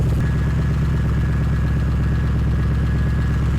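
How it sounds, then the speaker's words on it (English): A car engine idles steadily with the air conditioning at full max, holding a constant low hum and a thin whine as the AC compressor engages. "And as you can see right there, the compressor's turning on"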